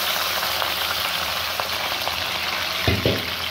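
Beef pieces frying in a wok with cardamom and cloves, a loud close sizzle with crackle and a couple of spatula scrapes near the end, no speech.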